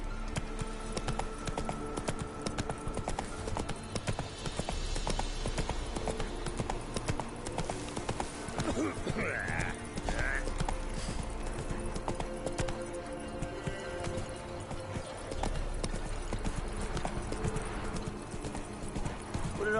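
Horse hooves clip-clop steadily in The Witcher 3 next-gen, a continuous rhythmic trotting over a low background hum with a brief whinny partway through.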